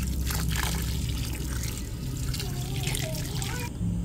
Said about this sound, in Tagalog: Lalagyan na po natin ng tubig.